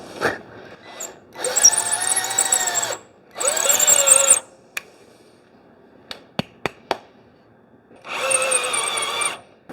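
Several bursts of a power drill whirring while drilling for dowels in a hallway closet build, each a second or two long, separated by pauses with a few sharp clicks; close and loud, no talking.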